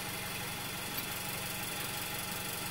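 A car engine idles steadily, its low even hum and faint rapid ticking picked up through a piezoelectric contact mic, continuous and fairly loud with no change in speed and no voices.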